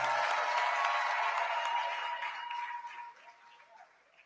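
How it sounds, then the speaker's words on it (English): Audience applause in a hall at a medical and dental practitioners' induction ceremony, a broad sustained clapping that holds steady, then fades gradually toward the end. "Can we give her a better applause?"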